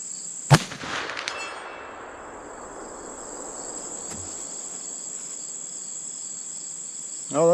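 A CVA Optima V2 muzzleloader rifle fires one loud, sharp shot at a target, followed by a fading rumble, while insects chirp steadily in the background throughout.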